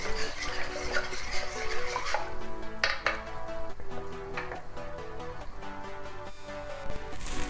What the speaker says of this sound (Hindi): फ्लेम को हमने हाई रखना है और चम्मच हमने चलाते रहना है। चम्मच को अभी हम नहीं छोड़ेंगे, चम्मच को हिलाते रहेंगे जब तक कि दूध को उबाल ना आए।